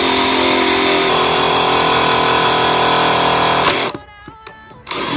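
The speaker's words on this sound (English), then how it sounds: "And you just start drilling." A steady, loud mechanical whir of a power drill running continuously as it bores into wood, then cutting off abruptly near the end, leaving brief quiet with faint rattles.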